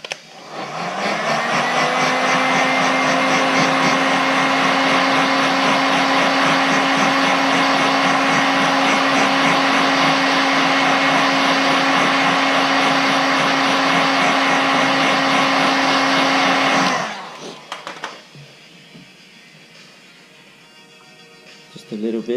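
A heat gun blows hot air onto car badge lettering with a loud, steady whirring roar that holds for about seventeen seconds, then cuts off, leaving quieter handling sounds.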